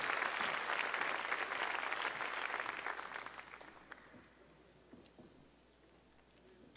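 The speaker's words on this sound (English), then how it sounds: "how about one more big round of applause for all of our state sportscasters and all of tonight's honorees" Applause from the crowd at a national sports media awards banquet for sportscasters and honorees, a fairly distant, steady round of clapping that gradually fades to scattered claps and quiet.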